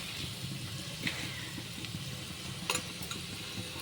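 Sliced onions with salt, turmeric and a green chilli frying in a pan, a steady close sizzle with small crackles and a faint scrape or two.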